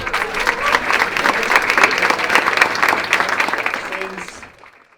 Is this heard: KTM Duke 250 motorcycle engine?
no